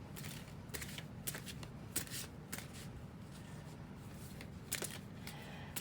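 Steady, soft riffling of tarot cards being overhand shuffled by hand, continuous with small flicking accents and no talking.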